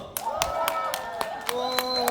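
Clapping at a dance festival, with sharp, fairly regular hand claps about every quarter second under a speaking voice.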